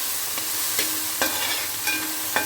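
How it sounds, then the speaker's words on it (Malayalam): Fennel seeds and curry leaves fry in a pan under a steady close sizzle, with a few sharp spoon scrapes or stirs breaking in roughly every half second. "അതും കൂടിയിട്ട് ഇട്ട് നന്നായിട്ട് ഫ്രൈ ചെയ്യാം നന്നായി മൂപ്പിച്ചെടുക്കാം"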